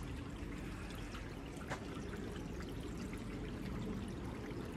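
Water features beside a pool and spa at a Las Vegas mansion splash and pour steadily, a continuous close rushing trickle with no talk over it.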